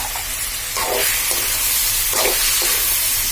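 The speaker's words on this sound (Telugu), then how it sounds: "తర్వాత ఆ ఆయిల్లోనే సొరకాయ ముక్కలు వేసి మంచిగా వేయించుకోండి" Bottle gourd pieces frying in hot oil: a loud, close, continuous hissing sizzle that swells in a few bursts as the pieces are stirred.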